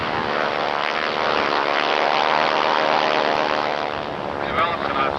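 A gray North American AT-6 Texan, a propeller trainer of about 600 horsepower, flies past at an air show with a loud, sustained buzzing propeller and engine drone that swells and then eases slightly.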